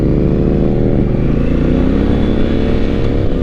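A Honda Africa Twin adventure motorcycle decelerating, its engine droning loud and steady close by with a rough low rumble and no pauses or talk.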